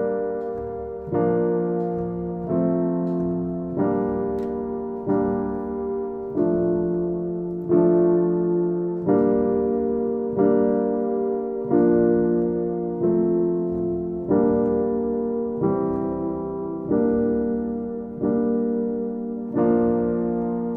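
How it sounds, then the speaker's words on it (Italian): Piano and guitar strum a slow chord accompaniment, each chord struck on a steady beat and left to ring and fade before the next, clear and close with no voices. "quello che avete sentito sono soltanto gli accordi."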